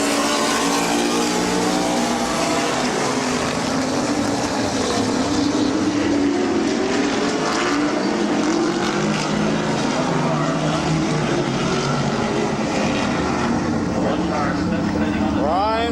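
Race cars roaring around the oval at Midvale Speedway, a steady loud engine drone with rising and falling revs, while an announcer talks over the racing.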